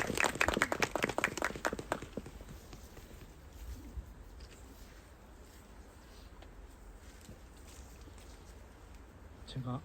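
Crowd applause at an outdoor memorial for a deceased labourer, a short burst of clapping that fades after two seconds into quiet ambient murmur.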